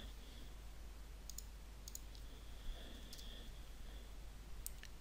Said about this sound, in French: Et je clique sur ajouter.